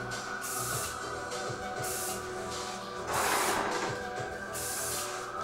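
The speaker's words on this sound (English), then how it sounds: "So here I'm just giving it a little bit of spray just to really give Amelie some edge to it." Hairspray misted onto a curly 1950s-style bob in a salon, heard as repeated soft hissing bursts, one stronger and longer near the end, over steady background hum.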